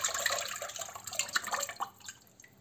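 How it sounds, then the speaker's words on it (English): Chicken broth being poured into a pot for ogbono soup gives a soft, steady liquid splashing with small drips and trickles, fairly quiet and with no talking. "First thing I'm going to be putting in my pot is going to be chicken broth."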